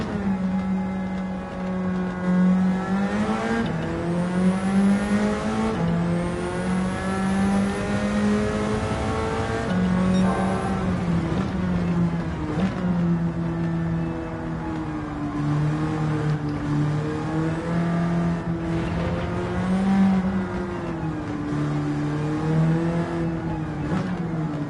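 Engine of a K-swapped Nissan Silvia S13 in Gran Turismo 7, a loud steady drone that rises and falls repeatedly through throttle changes and gear shifts, continuous and close for the whole stretch.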